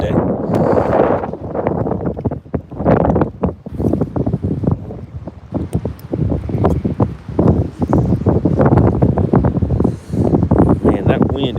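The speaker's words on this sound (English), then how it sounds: "that wind is definitely brutal" Strong gusting wind buffets the microphone on a lake during bass fishing, a loud rumbling roar that swells and drops in waves, close and harsh throughout.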